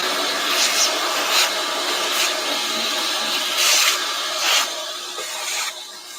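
A vacuum runs as a steady broadband whoosh and hiss through the whole stretch, fairly loud and close, with a few brief surges and a slight drop near the end, during prep work on an HM69 tank.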